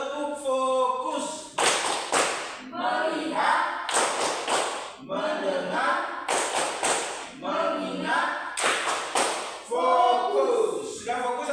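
Schoolchildren standing in a classroom chant a rhythmic tepuk fokus clapping routine, sharp claps landing in regular bursts between sung words, the group voices and hand claps close and loud together.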